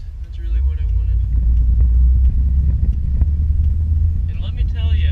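A Dodge Ram pickup truck with an aftermarket exhaust rumbles deep and loud while driving, a steady low drone with faint voices over it.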